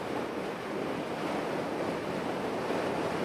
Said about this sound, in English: All I hear is wind, which is so weird.